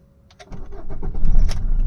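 A 2017 Maruti Swift Dzire VDi diesel car engine cranks and catches on a single start after a brief quiet moment, then settles into a rough, rising idle close by.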